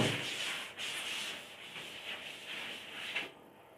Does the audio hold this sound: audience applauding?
no